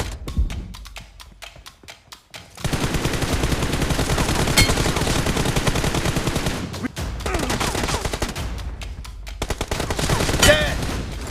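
Rapid bursts of gunfire in a video game shooter, dense automatic volleys and single shots crackling loudly and nearly without pause through the clip.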